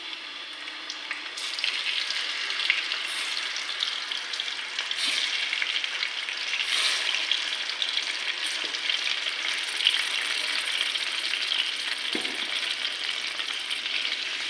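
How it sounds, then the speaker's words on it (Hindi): Beef kofta meatballs shallow fry in oil, giving a steady, close, even sizzle that continues throughout with faint occasional clinks. "अब हम इसी ऑयल में कोफ्ते डाल के इसको शैलो फ्राई कर लेंगे।"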